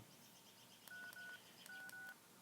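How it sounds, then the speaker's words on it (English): Two short bursts of electronic keypad tones, each a few quick beeps from an old phone being dialed, fairly faint over a quiet background. "I've got an old phone, which is why you heard the beeping"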